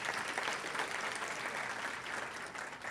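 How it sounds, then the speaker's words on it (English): Audience at a county teachers-of-the-year awards event applauding, a soft, distant, continuous patter of many hands that stays level throughout. "I know that applause is more for her than for me."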